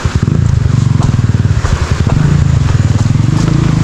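Enduro motorcycles labor along a muddy trail on Mt. Marami in drizzle, a close, loud engine chugging in a rapid, uneven pulse throughout.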